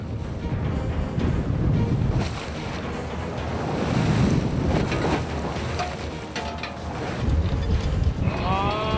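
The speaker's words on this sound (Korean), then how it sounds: "성난 파도는 쉽게 멈추지 않는다." A skate-fishing boat works rough winter seas off Heuksando island: loud crashing waves and gusting wind buffet the microphone continuously, with surging water rising and falling around the hull.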